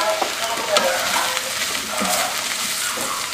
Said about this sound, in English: I already put the lentils into the boiling water